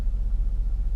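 A Porsche Cayenne S with a 2.9-litre turbocharged V6 gives a brief, steady, deep rumble, heard close and alone.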